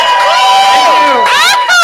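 A convention-panel audience at Dragon Con cheering and whooping loudly for Eric, a dense burst of shouts and raised voices close by.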